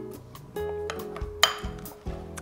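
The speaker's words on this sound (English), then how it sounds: "You're gonna mix that up really well." Sauce with sesame oil is mixed in a bowl for spicy Korean chicken stew, giving a few clinks of a utensil against the dish over a low background hum, close and fairly quiet.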